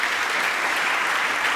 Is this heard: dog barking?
no